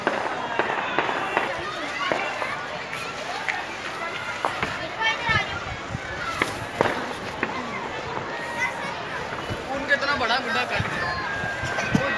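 Celebratory aerial gunfire and firework-like pops crackle repeatedly at the Rawalpindi Basant kite festival in 2021, with sharp bursts scattered throughout over a busy crowd and nearby talking.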